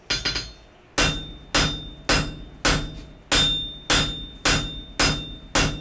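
Blacksmith's hammer blows ringing on an anvil as wrought iron is lengthened with a back taper: nine loud, evenly spaced metallic strikes at close range, each with a bright ringing tail, no talk.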